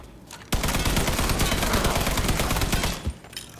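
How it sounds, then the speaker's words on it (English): A loud, dense burst of automatic gunfire in the video game Mafia III on PS5 starts abruptly, rattles on for about two and a half seconds, then cuts off. "I'm shooting everything but the people"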